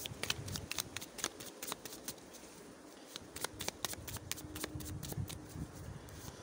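Tarot cards are shuffled and drawn, a string of quick papery snaps and flicks close by over a low steady background hum.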